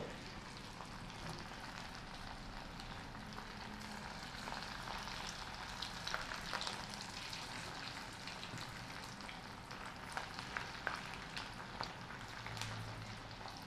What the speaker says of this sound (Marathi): हे आपले आता तळून झालेले आहेत